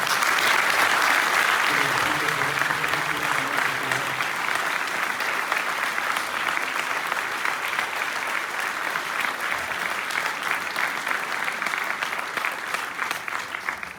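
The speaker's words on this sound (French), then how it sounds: "je voudrais qu'on applaudisse les officiers qui sont avec moi" A crowd at a political campaign meeting in Valence claps steadily and loudly for the officers, a continuous wash of applause with a few voices underneath early on.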